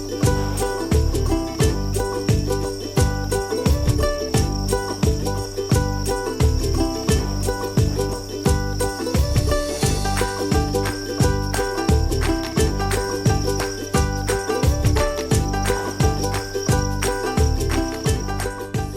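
Dense, steady cricket chirping on a cricket farm fills the space, many insects trilling together in a continuous pulsing chorus with no voices.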